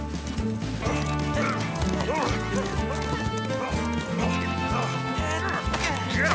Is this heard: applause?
no